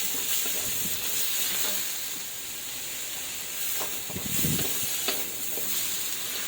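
Carrots stir-frying with onion in a hot pan, a steady loud sizzle and hiss with scraping stirs of a utensil rising and falling through it.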